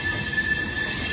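Visakha Express passenger train rolling along a single-line track, a steady rumbling roar of wheels on rails with a faint high squeal running through it, close and continuous.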